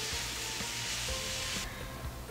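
Artichoke hearts sizzle in a hot pan while being stirred, a steady close crackling fry with soft scraping strokes of the utensil, no voices.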